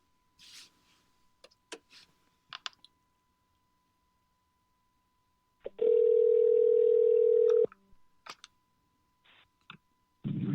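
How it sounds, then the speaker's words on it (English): Telephone line being dialed for a call on a talk program: scattered clicks and short tone blips, then a loud steady dial tone for about two seconds, followed by more sparse clicking. "Dialing in Thom Hartmann."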